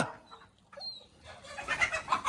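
A hen clucks softly nearby in a few short, scattered calls against a quiet background.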